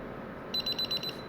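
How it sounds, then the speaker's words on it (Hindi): A KT100 access control keypad gives a quick run of about five short, high electronic beeps, evenly spaced over half a second, against a faint background hiss. "बीप आ गई"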